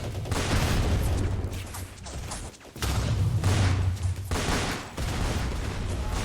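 Rifle and infantry gunfire in a Roblox World War One shooter game, dense overlapping shots and booms forming a near-continuous loud barrage with short dips between bursts.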